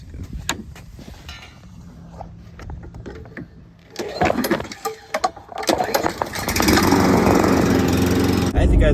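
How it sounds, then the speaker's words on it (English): A lawn mower engine running on bad gas sputters and struggles, with clunks and pull-start rattles, then catches and roars loudly at close range near the end. "my lawnmower is now doing the exact same thing that my van is doing"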